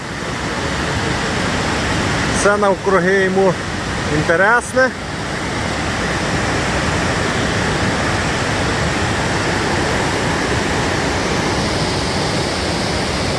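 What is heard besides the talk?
rushing water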